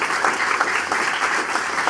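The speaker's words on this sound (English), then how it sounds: "Another big round of applause," A seated crowd at an event gives a speaker a round of applause, a loud, even patter of many hands clapping continuously with no talking.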